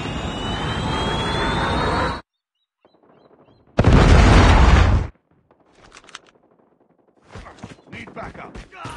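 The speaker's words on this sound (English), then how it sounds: "Friendly predator missile inbound." Predator missile strike in Call of Duty Mobile: a loud roaring blast and rumble cut off abruptly, a second heavy explosive burst after a pause, then quieter crackling gunfire and debris toward the end.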